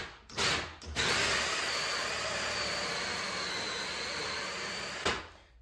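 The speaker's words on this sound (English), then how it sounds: "We're only going to drill until the pilot bit goes through." Hole saw with a pilot bit drilling into a door for a lockset, a steady loud whine held for about four seconds between brief starts and stops.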